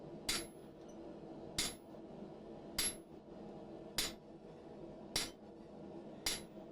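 Six sharp hammer blows land at a steady interval of just over a second on a butcher tool, isolating steel for a tenon on a gate-latch staple, each ringing with a bright metallic strike.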